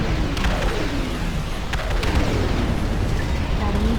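Bomb explosions in the real-time strategy game Ashes of the Singularity, a dense continuous wash of booming blasts and rumbling battle noise, steady and loud throughout.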